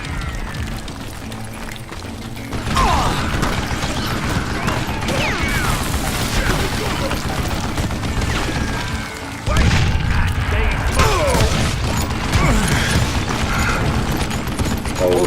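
A mounted gun fires in Call of Juarez: Gunslinger, rattling out long, loud, dense bursts of rapid shots with booming impacts. The fire eases briefly, then surges again, and a voice speaks partway through.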